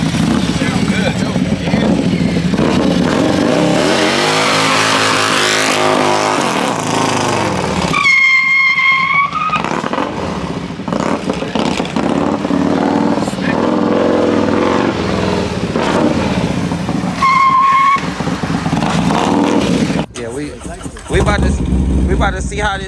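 A Harley-Davidson Road King with a modified, power-upgraded engine roars loud and close, its revs rising and falling in sustained bursts with brief drops in between.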